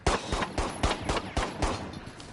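A Rainbow Six Siege sidearm pistol fires about ten close, loud shots in quick succession. Each crack is distinct and the rhythm is slightly uneven, with no talk over them.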